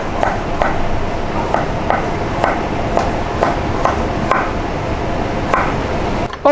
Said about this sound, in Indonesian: motong bawang bombay supaya tidak nangis, pisaunya harus tajam